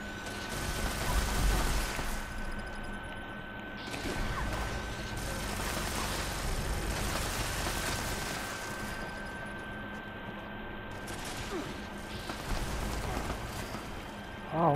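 Enemy gunfire in Fallout 76 in Atlantic City, a dense, sustained barrage of shots and crashing impacts with several bursts over a rumbling game backdrop, loud and continuous throughout.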